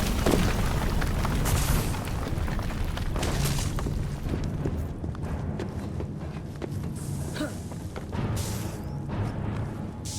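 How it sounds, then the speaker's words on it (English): Explosion of a Piece of Eden in the Assassin's Creed video game: a loud, dense booming blast with crashing debris and rumble filling the whole stretch, several heavy impacts rolling on without talk. "What was that explosion?"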